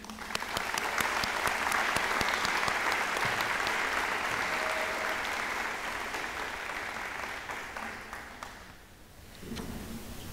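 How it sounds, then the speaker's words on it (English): An audience claps in a steady, loud round of applause at a signing ceremony, the dense patter swelling early, then gradually thinning and fading out near the end. "let's give a big round of applause to his biggest support system, Mr. and Mrs. Salinas."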